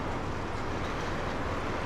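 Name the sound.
model T1 locomotive pulling its passenger train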